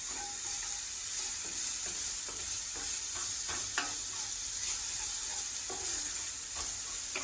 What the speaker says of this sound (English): So we're gonna saute the onions for now.